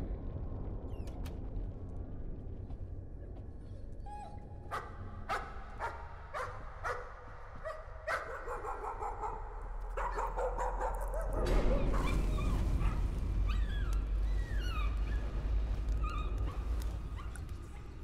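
In the horror video game Layers of Fear, a dog barks and whimpers in short yips amid a dense, droning game soundtrack that swells louder in the second half.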